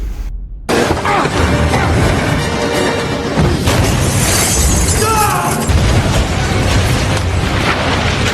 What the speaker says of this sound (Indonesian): Dom nekat lompat menyelamatkan Letty di tengah ledakan